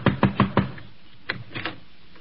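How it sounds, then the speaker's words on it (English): Four quick, close knocks on a door in a steady rhythm, then a short pause and a few softer, scattered taps, with no voices. "Knock on the door."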